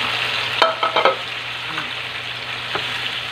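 Marinated pork and its boiling liquid go into a hot frying pan with garlic, bursting into loud, close sizzling with a few sharp spatters and stirring clinks before settling into a steady fry.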